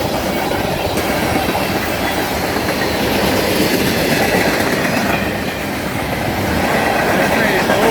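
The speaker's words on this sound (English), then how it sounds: "This train is moving." CN manifest freight train with tank cars rolling past close by, a continuous loud rumble with rhythmic clickety-clack of wheels on rail joints and faint squeal, no pauses.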